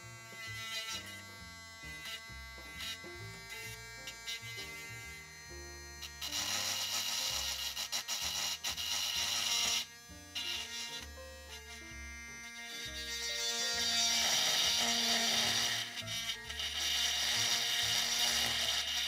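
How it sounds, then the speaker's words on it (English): A small rotary grinding tool buzzes against a damaged copper track on a Yamaha amplifier circuit board, whining in short on-off bursts with changing pitch, close and fairly loud, without speech. "We're just going to grind down either side of this damaged track."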